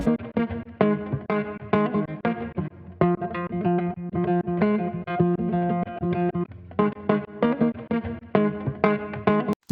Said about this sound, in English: You can really hear the pumping when you're listening just to the guitar.